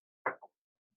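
Garlic and two bay leaves drop into a cast iron pot with one soft plop followed by a smaller second plop, close and brief, then near silence.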